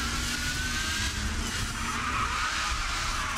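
A racing car spins out in GRID 2, its tires skidding and squealing loudly on the track over a steady engine drone, a continuous screech lasting throughout.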